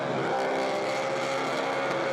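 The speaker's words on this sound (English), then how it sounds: "It's a 460 big block, supercharged methanol carbies." A supercharged 460 big-block engine on methanol carburettors screams at constant peak revs in a burnout car at an Australian burnout competition, a continuous unbroken roar with no gear changes or lifts.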